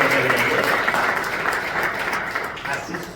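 An audience at a school poets' gathering bursts into applause, a dense wash of many hands clapping that holds steady and then slowly thins over a few seconds, with a voice faintly audible underneath.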